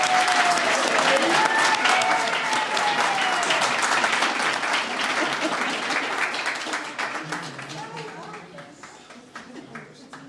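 Audience applause at an annual meeting's service award ceremony, a loud sustained round of many hands clapping that gradually fades toward the end, with voices heard over it.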